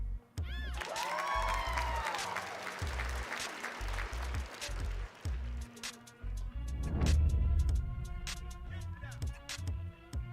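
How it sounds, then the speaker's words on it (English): A hand claps sound effect plays on a livestream: a burst of crowd applause and cheering with scattered claps, mixed with other noisy clatter and background sounds, fairly loud and close. "Scribe, go ahead and give him some hand claps."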